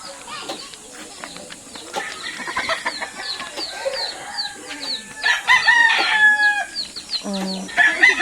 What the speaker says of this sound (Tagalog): nagpupurok pa ang kanilang mga manok